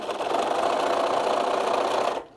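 A sewing machine stitching fabric for a knot bag, a steady close whirring hum running continuously for about two seconds before stopping abruptly.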